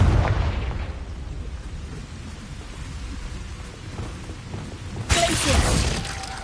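A Confringo blasting spell goes off in Hogwarts Legacy, a rumbling, crackling blast with a rain-like wash that swells sharply near the end.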